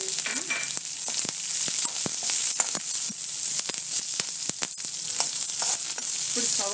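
Curry leaves and green chillies sizzle in hot oil for a tempering, a loud continuous crackle with sharp pops and spatters throughout.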